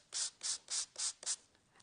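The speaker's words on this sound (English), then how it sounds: "So I'm literally sanding back." Hand sanding with sandpaper wrapped around a foam block, five brisk, evenly spaced rasping strokes followed by a fainter sixth, close and clear with no talk.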